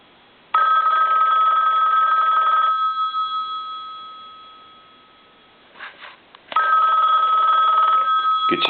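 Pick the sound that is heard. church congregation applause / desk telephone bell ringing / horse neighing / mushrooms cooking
desk telephone bell ringing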